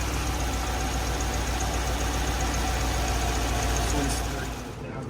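A car engine idles steadily with a low, even rumble, fading slightly at the very end.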